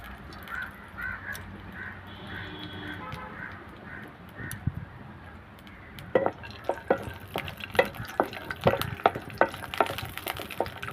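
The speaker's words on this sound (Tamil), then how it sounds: "இப்போது அது கூடவே நான் முந்திரி, திராட்சையை சேர்த்து வறுத்து எடுத்துக்க போகிறேன்." Cashews and raisins frying in ghee in a pan, quiet at first with crows cawing in the background, then a run of sharp, regular scraping and clinking strokes as a spoon stirs them.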